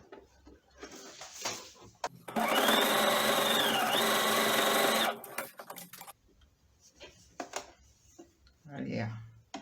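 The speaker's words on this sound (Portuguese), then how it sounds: "Aí eu vou começar a costurar essa orelha a partir daqui, desse 1 centímetro." A sewing machine stitches fabric for a stuffed elephant's ear in one loud, steady burst of about three seconds, with soft talking and handling noises before and after.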